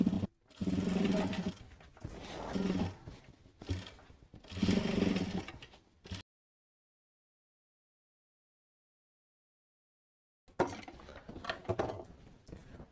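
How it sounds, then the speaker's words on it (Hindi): Domestic sewing machine stitching lehenga fabric, a steady mechanical whirr in a few separate runs of a second or two, then a long silence before a rougher stretch of handling and machine noise. "अब यहाँ पे 1 फुट की सिलाई भी लगा लेते हैं हम।"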